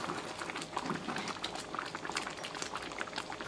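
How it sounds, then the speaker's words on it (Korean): A covered pot of thick shrimp curry bubbles and pops continuously at a steady simmer, close and fairly soft, with no voices. "뚜껑을 닫고 잠시 동안만 끓여주시면 돼요."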